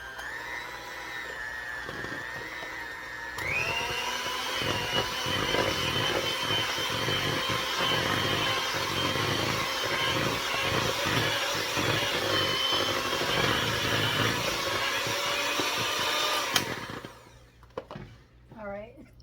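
Cheesecake batter being beaten with an electric mixer: a steady, loud motor whir runs for about sixteen seconds, rising in pitch a few seconds in, then cuts off, followed by faint clinks and scraping.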